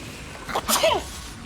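A single close sneeze, a sharp burst lasting under half a second, rises out of quiet room tone.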